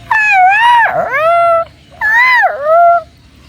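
A human voice imitating a jackal's howl: two long, rising and wavering howling calls with a brief gap between them, loud and close.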